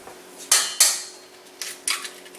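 Eggs cracked one after another against a bowl for an Asian-style soul food bread pudding: two sharp close taps, then two lighter knocks, each with a brief crisp tail, no voices.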